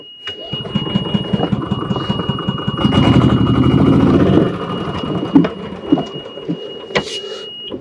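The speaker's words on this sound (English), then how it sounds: "So I'm going to turn the cart on, put it in reverse" A Yamaha golf cart with a newly replaced clutch starts up and pulls away in reverse, its small engine buzzing and chattering loudly up close, swelling midway then settling, with a few clunks toward the end.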